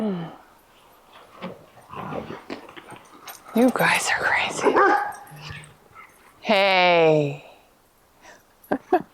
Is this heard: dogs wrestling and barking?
yes